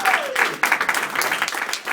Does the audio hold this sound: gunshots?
no